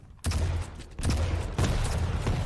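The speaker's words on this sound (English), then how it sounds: "Rockets on the lip of the bounce pad, not quite connecting with av3k" Rocket launcher fire in Quake during a Quake Pro League match, three heavy explosive blasts spaced about a second apart, each with a deep rumbling low end and a sustained roar between them.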